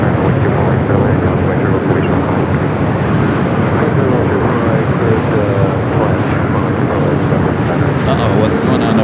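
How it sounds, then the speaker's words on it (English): Heavy Boeing 747 jet landing at LAX on runway 24 right, a loud continuous engine roar with steady broadband rumble, likely accompanied by voices. "Heavy Boeing 747, short final, caution wing turbulence, runway 24 right, clear to land"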